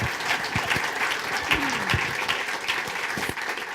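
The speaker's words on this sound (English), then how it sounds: "Just a huge round of applause for Jarita." An audience at a Democratic gubernatorial candidates' forum breaks into sustained applause, a dense, steady clapping from a crowd throughout, with faint voices mixed in.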